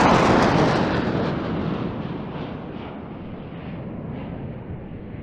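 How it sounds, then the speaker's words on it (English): An RAF Typhoon fighter jet flies an airshow display at Eastbourne, a loud, broad roaring rumble that is strongest at first and then eases slightly as it continues steadily with no talk. "With Nathan's display, you're going to be able to see the Typhoon's immense performance."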